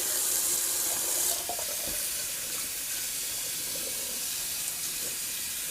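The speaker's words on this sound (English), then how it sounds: "just going to rinse off the Williams puck" Tap water runs steadily over a Williams shaving soap puck as it is rinsed at a sink, a continuous loud hiss of flowing water with a brief shift in the splash partway through, no voices.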